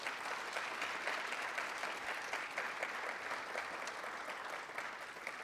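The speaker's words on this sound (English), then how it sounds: "please give Gary a really warm round of applause" An audience at an evening History Café talk on Indigenous forestry gives a warm, steady round of applause, a dense, even wash of clapping sustained throughout with no speech.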